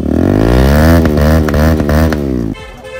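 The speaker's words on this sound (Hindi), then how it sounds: "जो भी एग्जॉस्ट लगाओगे, साउंड ज़बरदस्त आएगा, क्योंकि बैंड पाइप जो है इसमें लग चुका है।" A Karizma XMR 210 motorcycle with a modified exhaust and bend pipe revs loud and close, its throaty note sweeping through rises and dips before dropping sharply to a rumbling idle.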